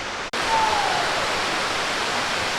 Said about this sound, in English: Down there is the water continuing to cascade down the hill.